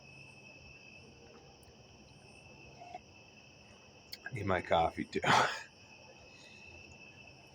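Steady cricket chirping drones faintly through the background at night, a thin continuous buzz that persists while someone speaks briefly over it.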